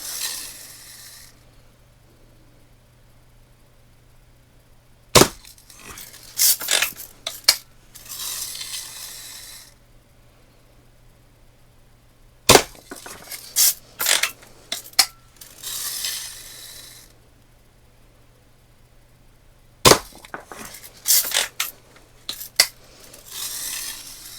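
Shots from a pink Daisy Red Ryder BB air rifle fired at targets: three sharp, isolated cracks spaced several seconds apart, each followed by clattering metallic cocking sounds, in a quiet setting.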